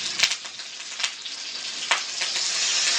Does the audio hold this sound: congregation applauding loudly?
no